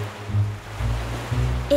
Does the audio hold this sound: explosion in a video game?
no